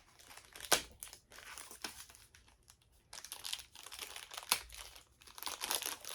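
Taped plastic toy packaging from a Masters of the Universe Origins figure being pried open, close crinkling and crackling in irregular bursts with sharp tearing snaps, fairly quiet.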